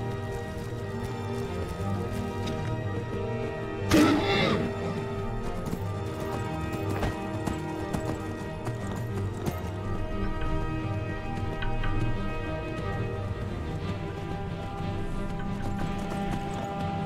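Horse hooves clip-clopping in the video game Skyrim, a steady rhythmic trot of fairly close footfalls over ambient game music, with one brief louder burst partway through.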